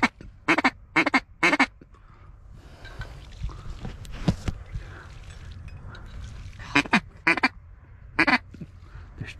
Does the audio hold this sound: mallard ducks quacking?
yes